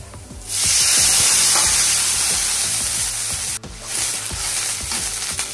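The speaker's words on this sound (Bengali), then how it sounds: "আমার পেঁয়াজটা প্রায় ভাজা হয়ে গেছে।" Onions sizzle and crackle loudly in a hot pan for a fish curry, with a steady frying hiss and a spoon scraping and stirring now and then.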